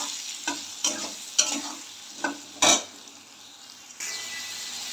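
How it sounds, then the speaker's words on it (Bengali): Potatoes fry in a pan with salt and turmeric while a spatula scrapes and stirs them several times over a soft, steady sizzle. No voices. "এবার আবার ভালো করে নেড়ে নেব।"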